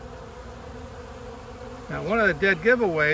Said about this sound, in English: all the bees that are frantically trying to get into this colony